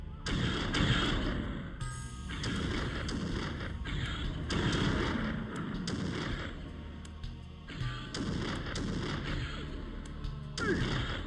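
Repeated booming explosions from the video game Blood Omen, loud, broad bursts arriving in clusters every second or two across the stretch, with no talking.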